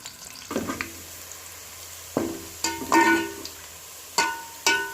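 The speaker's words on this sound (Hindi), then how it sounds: "अब हम प्याज को सबसे पहले गोल्डन कर लेंगे।" Onions fry in a pan until golden, a soft background sizzle broken by several sharp stirring bursts and scrapes of a spoon, close and fairly quiet.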